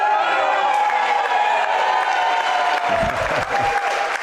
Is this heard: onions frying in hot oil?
no